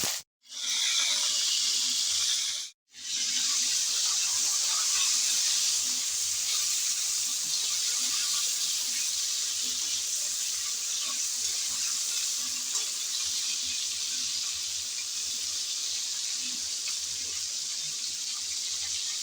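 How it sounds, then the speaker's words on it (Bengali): Shrimp seasoned with salt and turmeric drop into hot oil with a brief break, then a loud, steady broadband sizzle hisses on continuously without pause, with no voices. "গরম তেলে চিংড়িগুলো দিয়ে দিচ্ছি"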